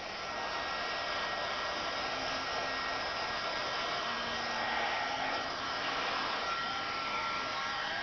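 A heat gun blasts hot air to melt a flower, a constant loud roaring whoosh that stays steady without a break and with no voices.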